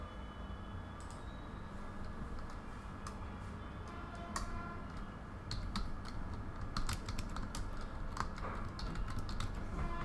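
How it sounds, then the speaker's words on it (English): Steady clicking of computer keyboard keys during a live Illustrator design class, continuous irregular taps over a constant low background hum, with no talking. "so just type something here."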